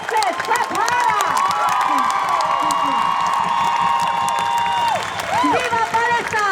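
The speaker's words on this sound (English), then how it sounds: "Raise your voices, clap harder!" A protest crowd in Sydney's Town Hall claps and cheers for Palestine, with whoops and shouting voices rising over sustained applause, loud and close throughout.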